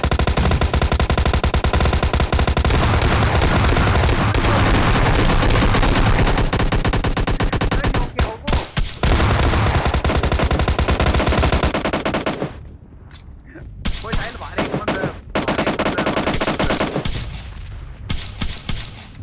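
Dense automatic gunfire in a battle royale game rattles almost without pause: loud, close bursts that break into shorter volleys near the end.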